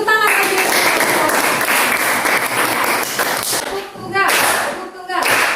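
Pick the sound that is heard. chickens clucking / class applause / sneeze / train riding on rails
class applause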